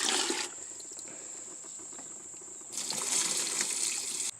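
Murky water pours through a homemade gravel filter in a steady, hissing stream. It softens to a thin trickle midway, then swells back into a fuller rush before stopping abruptly.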